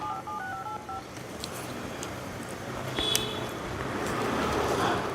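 Quick electronic telephone keypad tones beep in a short sequence over steady traffic noise, with a faint bell-like ping partway through.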